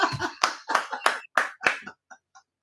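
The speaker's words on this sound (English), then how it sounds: "Everyone give a round of applause to Mr. Patrick Clark" Applause for Patrick Clark at a slot car racing night: a short, brisk run of close hand claps, about ten sharp strikes that fade out within a few seconds.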